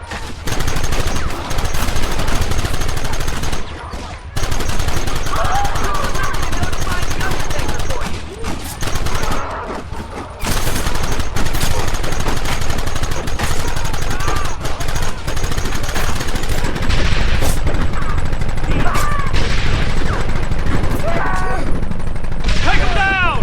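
Loud, sustained gunfire from a Red Dead Redemption shootout, dense rapid volleys of shots nearly continuous throughout, with voices shouting over the battle.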